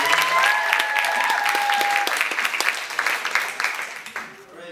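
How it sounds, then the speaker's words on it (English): A festival audience applauds the performers, a dense, steady wash of clapping that fills the whole stretch and thins slightly near the end, with a brief tonal whistle-like line early on. "a round of applause for all the performers tonight"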